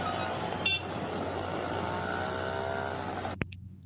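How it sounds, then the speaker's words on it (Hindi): Road traffic on the way from Haldwani toward Nainital, a steady moderate engine rumble and road hiss of passing vehicles, ending with a short sharp click. "बीच में ट्रैफिक की आवाज़ आ ही रही थी"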